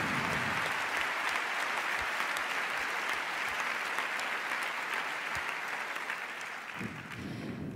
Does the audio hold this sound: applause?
yes